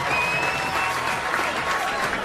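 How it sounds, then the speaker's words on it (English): Studio audience applauding and cheering as participants of a hypnosis show make their way off, a steady dense clapping wash throughout with no talk over it. "Give them all a big cheer as they make their way."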